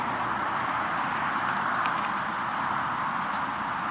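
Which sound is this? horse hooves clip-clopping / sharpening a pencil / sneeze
horse hooves clip-clopping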